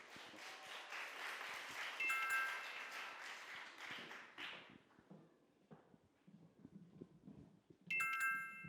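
Audience applause greets a girls' high school team at a youth debate contest, a moderate crowd clapping for about four seconds before fading into quiet room noise with faint bell-like tones.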